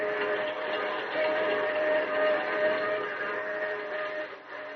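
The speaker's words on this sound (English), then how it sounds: "As the train roars into the night" A train roars through the night in a sustained, loud rumble, with a steady whistle-like tone riding over it in the middle, heard alone with no voices.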